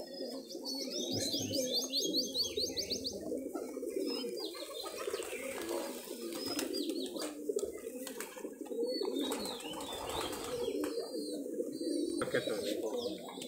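Giribaz high-flyer pigeons coo and flutter close by in a loft, a steady low cooing bed with chirps and wing clatter, while people talk over it.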